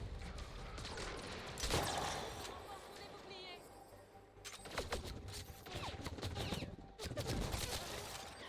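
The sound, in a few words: Angara pistol gunshots in video game Mass Effect Andromeda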